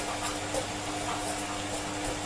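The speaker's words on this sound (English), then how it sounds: "There's a lot of noise in the background because my washing machine is running." A steady, muffled mechanical hum with a faint watery churning runs continuously in the background, like a washing machine running nearby.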